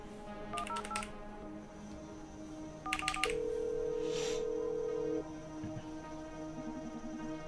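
Telephone dialing in the video game The Red Strings Club: two quick bursts of keypad tones, then a long steady ringback tone, over soft background music with no talking.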